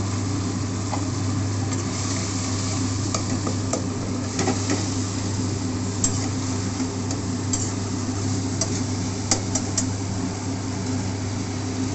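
A cumin, green chilli, tomato and ginger paste fries in hot oil for a koi fish curry, a close, continuous sizzle with scattered sharp crackles and pops over a steady low hum.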